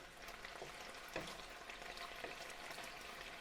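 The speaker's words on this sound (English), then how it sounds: "So we'll give that a bit of a stir, mix that up nicely." Chicken stir fry with mushrooms, onions and pak choi stems sizzling steadily in a pan while being stirred, a continuous close frying hiss broken by a few soft scrapes of the spoon.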